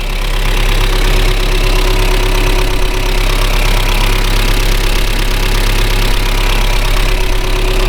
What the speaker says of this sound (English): diesel engines are so noisy I have to shout while I'm doing the review